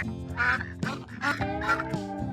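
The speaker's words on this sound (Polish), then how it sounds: "To są małe kaczuszki." Ducklings quack in quick overlapping bursts near a small farm pond in an animated children's cartoon, with bright, close and fairly loud calls repeating throughout.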